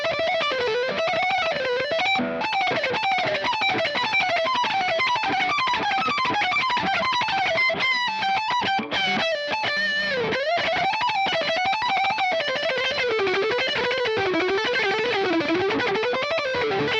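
Electric guitar through the AMP1 Mercury classic channel set for an 80s metal tone, playing a distorted, fast melodic lead line with sustained notes and bends, loud and continuous with no talking.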